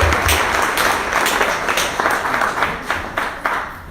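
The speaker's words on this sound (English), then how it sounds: "let's give our first timers a round of applause." Audience at a small business meeting clapping for first-time attendees, a steady burst of many hands at close range with a faint voice underneath.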